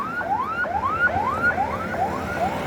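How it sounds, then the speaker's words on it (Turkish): A wailing Indonesian ambulance siren sweeps up repeatedly in quick rising cycles, loud and steady over traffic noise near a bridge. "Bu da işte Endonezya'nın ambulansı"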